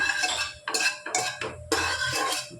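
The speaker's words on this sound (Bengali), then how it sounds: "এবার গোটা গরম মশলাগুলো আর শুকনো লঙ্কা তেজপাতাটা তেলের মধ্যে হালকা করে নেড়ে নিচ্ছি।" Whole garam masala, dry red chillies and a bay leaf stirred lightly in hot oil in a pot, with a metal spoon scraping and clinking against the pan in several close, irregular strokes.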